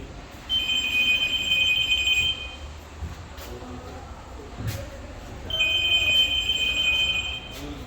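An electronic phone ring with steady high tones sounds twice, separated by a pause, over background noise in a car repair workshop.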